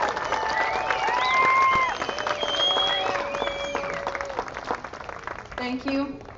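A crowd applauds the graduating class of 2022 at a community school graduation ceremony, a sustained wash of clapping with whistles rising above it before fading, and a voice speaking near the end.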